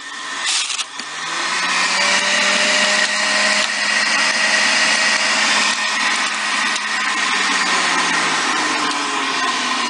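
A Bella juicer grinding spinach, a steady close motor whine with a rough mechanical hum that starts abruptly and runs continuously and loud to the end.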